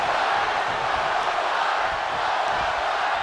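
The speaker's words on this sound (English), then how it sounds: "you hear this capacity crowd following you on that journey" A capacity crowd roars steadily throughout a wrestling arena, a dense, loud, continuous wash of cheering with no breaks.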